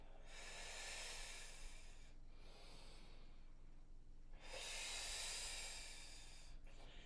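Slow, deep breaths during a strength and balance exercise class, with long hissing inhales and exhales in a steady rhythm, heard up close and fairly quiet, with no talking.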